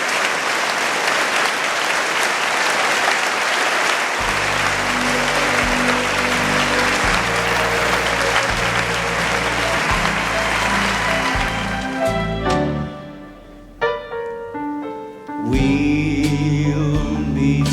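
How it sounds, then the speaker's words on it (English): A live concert audience applauds veterans and Merchant Marines, loud dense clapping sustained for about twelve seconds before thinning out, with music entering beneath it partway and taking over toward the end. "please stand up and take a well-deserved round of applause"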